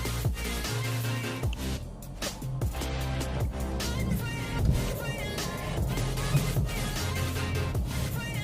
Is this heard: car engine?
yes